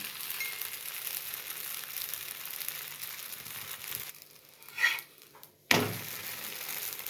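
Oil crackling and sizzling around a sweet poli on a hot pan, a steady close hiss that briefly drops away then returns loudly with a sharp burst of frying, no talk.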